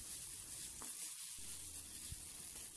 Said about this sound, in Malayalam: ഇനി ഇഞ്ചിയും വെളുത്തുള്ളി ചതച്ചതിട്ട് ഒന്ന് മൂപ്പിച്ചെടുക്കാം